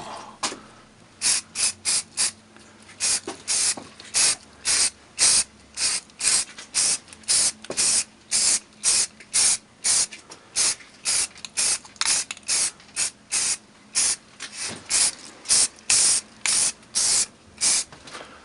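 Spray can applying primer to a brake caliper, a long series of short, sharp hissing bursts in fairly regular rhythm, close and clear with no talking.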